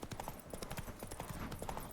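Horse hooves of Roach in The Witcher 3, a brisk run of clip-clop steps at a steady trot, close and moderately loud against game background sound.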